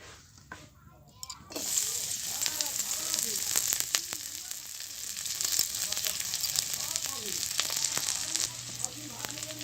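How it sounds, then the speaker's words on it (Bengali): Spices frying in hot oil for a potato curry (aloo dum) with new small potatoes, a sudden loud sizzle starting after a quiet moment and continuing steadily up close, with occasional clinks and faint talk. "তো তেলটা গরম হলে আমি আস্তে আস্তে সমস্ত মশলা দিয়ে ভেজে নেব।"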